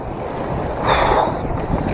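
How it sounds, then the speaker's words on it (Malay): High sea waves wash around a capsized kayak far out at sea, a loud continuous rush of water and wind buffeting the microphone, swelling in the middle with no voices. "Ni ombak tinggi ni, bahaya"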